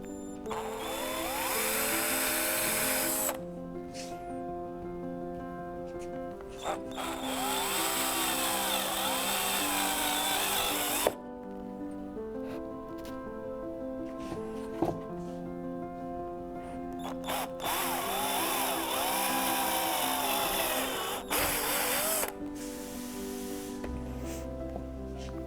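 Power drill with a 5.5mm bit drilling straight through holes in an ankle CCD lever kit part, several loud whining bursts of a few seconds each separated by brief pauses, close up.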